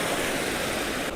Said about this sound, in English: It's like fast running water.